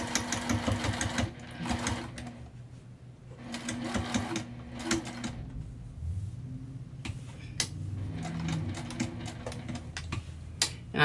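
A sewing machine stitches a fabric wristlet in several quick mechanical bursts with brief pauses and back-stitching, close and clear, with faint handling noises between runs.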